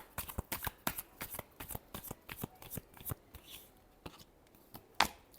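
A deck of tarot cards being shuffled close by, a quick run of crisp riffling flutters and taps in irregular bursts that end with one sharper snap near the end; nobody speaks.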